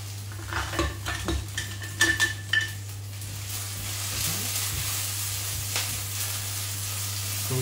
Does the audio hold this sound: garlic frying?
yes